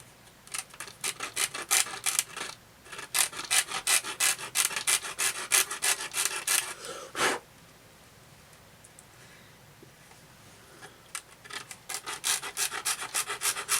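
A piece for a model kitbash being trimmed with a file, rapid close scraping strokes in two bursts separated by a quiet pause.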